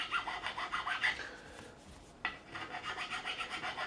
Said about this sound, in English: I'm going to take a file, in this case my number 3 file,